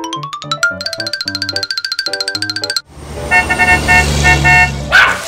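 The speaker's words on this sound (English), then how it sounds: "The sound of ice cream truck." A bright, tinkling ice cream truck music-box jingle plays loud and steady, then cuts to a lower, muffled tune with a car-like rumble and a brief chime.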